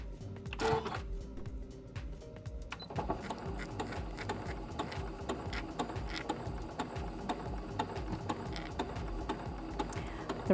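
A sewing machine stitches a quilt border, a close, steady rapid mechanical whir and tapping that starts after a few quiet clicks and handling sounds and then runs continuously to the end.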